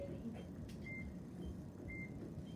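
A SimpliSafe home alarm system under test gives two short, clear beeps about a second apart, indoors and moderately faint over a low background hum.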